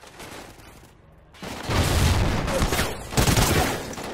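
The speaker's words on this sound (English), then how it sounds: "That's a grenade!" In the Call of Duty Ghosts video game, a grenade explosion and gunfire burst out loudly after a brief quiet, a dense roar of shots and blasts that swells twice.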